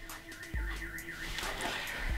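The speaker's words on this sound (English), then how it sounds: "I think that's my car alarm." A car alarm wails outside in Ireland, a steady warbling siren heard at a distance with low thumps underneath, sounding without any talk.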